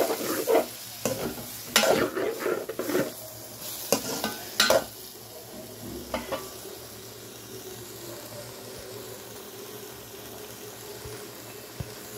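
Curry masala sautéed in a pan for a sarpunti fish and cauliflower curry, with loud spoon scrapes and stirring over a sizzle early on, then a settling softer bubbling hiss alone.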